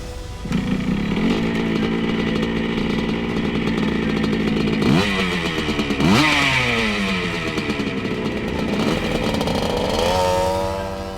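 A 1977 Honda Elsinore CR125 two-stroke dirt bike engine runs hard on a track, a loud, raspy buzz rising and falling in pitch as it revs and shifts, heard close throughout without talk.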